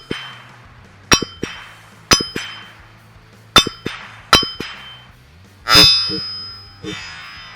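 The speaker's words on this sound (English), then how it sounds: "There's something cool about hearing that ping after you shoot it." Rifle bullets striking an AR500 steel target at a range, a string of sharp metallic pings with a ringing decay, spaced about a second apart, with one longer, louder ring near the end.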